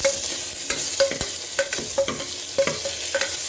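Ingredients for avarekalu sambar sautéing in a pan with a little salt until browned, a steady sizzle broken by repeated spatula scrapes and stirs, close and fairly loud with no talking.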